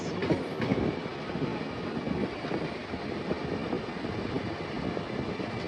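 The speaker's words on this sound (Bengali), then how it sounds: "শিয়ালদা কাঞ্চনজঙ্ঘা এক্সপ্রেস।" The Sealdah Kanchanjunga Express passenger train rumbles along the rails with a steady, dense clatter and roar, heard up close as from on board or beside the moving coaches.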